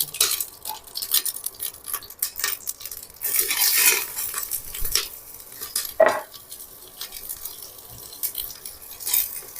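Chopped onion and green chilli sautéing in a pan with whole spices for a vegetable biryani: a spatula scrapes and clinks against the metal in uneven strokes over a faint sizzle, close by and without speech.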